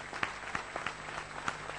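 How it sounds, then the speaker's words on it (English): An audience at a closing address applauds the event's sponsors with continuous clapping from a crowd, a few sharper individual claps standing out from the steady wash of sound. "A big hand of applause for them."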